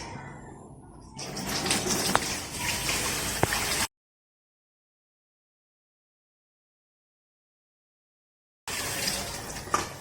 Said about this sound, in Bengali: দেখুন বন্ধুরা, মাংসটা এবারে আমি 2 থেকে 3 বার ভালো করে ধুয়ে নিচ্ছি